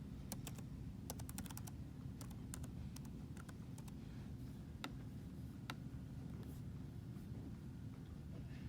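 Computer keyboard keys tapped irregularly while a password is entered, light close clicks scattered over a steady low hum, with no voices.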